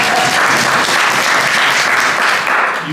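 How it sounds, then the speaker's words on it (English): Attendees at a county commissioner's town hall meeting give a full round of applause, a dense, even wash of many clapping hands filling the room, loud and close, fading slightly at the end. "round of applause for me"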